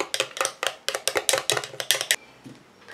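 A homemade plum after-sun milk lotion is stirred in a bowl, making a quick, rhythmic series of around ten close, bright clinks of a utensil against the bowl that stop after about two seconds.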